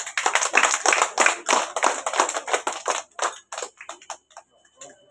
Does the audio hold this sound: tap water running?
no